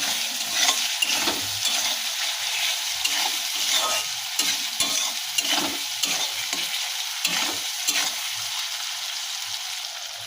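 Turmeric and chilli powder sizzle in hot oil while a spoon scrapes and stirs the pan in a repeated rhythm, close and fairly loud, with no one speaking.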